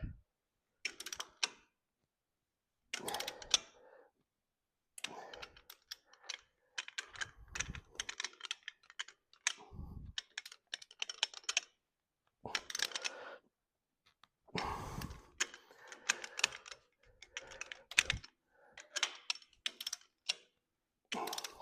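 A torque wrench set at 150 pounds tightens the head nuts on an old tractor, giving irregular bursts of sharp metallic clicks and ratcheting taps separated by short pauses.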